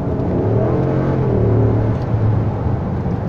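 A 2016 RAM 1500 BigHorn pickup with a 5.7 HEMI V8 and 313,000 km revs up close and loud, its deep engine note rising and holding steady without talk.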